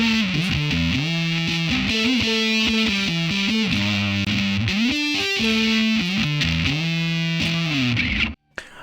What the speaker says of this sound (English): we can have a fuzz